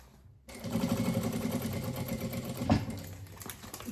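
A sewing machine stitches a nylon organizer. After a short quiet start it runs in a steady close whirr with quick regular needle beats and one sharper clunk partway through.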